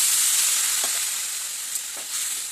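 Vegetables with lentil bori being stirred and fried in a pan, giving a steady bright sizzle with a few soft stirring scrapes.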